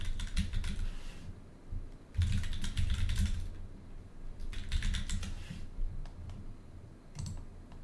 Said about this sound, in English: Okay, I'll type it.